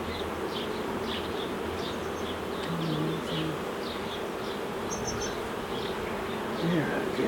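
A wild bee colony hums with a steady, close buzz of many bees, with individual wingbeats rising and fading across the swarm and no one talking.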